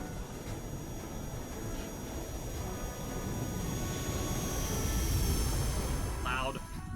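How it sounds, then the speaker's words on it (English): A jet aircraft engine roars steadily and loudly in the video game Front Mission 4, a continuous broadband rumble that swells slightly toward the end, with a brief tonal blip near the close. "Then again, it is a jet."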